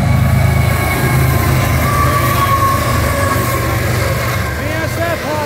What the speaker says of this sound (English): It's an ethanol train!